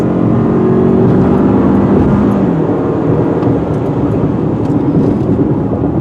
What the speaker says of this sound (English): Takes a while for the engine to spool up, but once it gets going, the vehicle gets going.